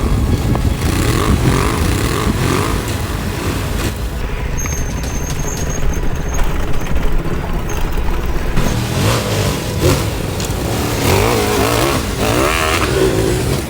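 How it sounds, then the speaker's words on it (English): A Ducati DesertX's V-twin engine roars through its exhaust on a rally ride, loud and continuous with rising and falling revs, no voices over it. "The sound of the V-twin engine through the exhaust was so intoxicating."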